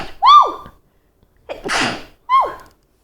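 Two sharp sneezes from one person, each a quick rising intake snapping into a loud burst, separated by a breathy gasp or sniff, close and otherwise quiet.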